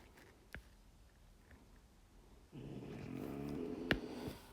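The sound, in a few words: dog snoring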